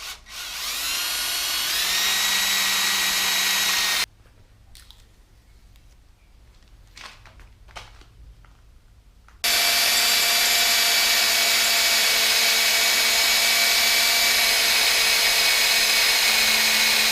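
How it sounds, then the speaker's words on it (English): A power drill fitted with a number 11 bit runs loud and steady for about four seconds, drops away for a quiet stretch with a few faint knocks, then starts up again and keeps whining evenly to the end, all during a utility trailer build. "I'll use this number 11 drill bit"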